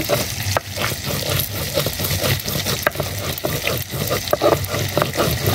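Koi fish frying in hot oil in a pan, a steady dense sizzle with crackling pops and occasional clinks of a utensil, continuous and close.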